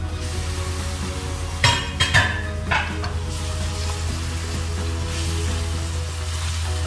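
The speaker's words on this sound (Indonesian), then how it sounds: "Kita aduk-aduk dulu supaya merata ya." Fried chicken is stirred in a pan with bird's eye chilies, shallots and garlic for a sweet, sour and spicy dish: a constant close sizzle, with a few sharp utensil scrapes and clinks against the pan early on.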